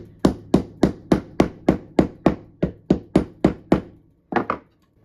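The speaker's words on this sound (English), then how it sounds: "Just rough it up a little bit with the hammer. I'm just gonna do some light taps first." A hammer delivers light taps to a fishing jig head, fourteen sharp, evenly spaced knocks in a quick steady rhythm, then a short pause and a final double tap, close and clear.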